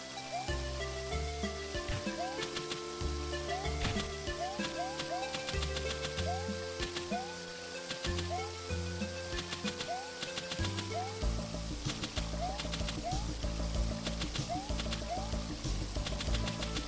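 Rain falling in a retro-style video game, a steady hiss-like wash running underneath a louder looping MIDI bayou-style music track for the whole stretch.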